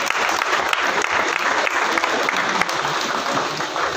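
A crowd gives loud, sustained applause at an Aam Aadmi Party youth wing announcement event in Delhi, with dense clapping that continues steadily from start to finish.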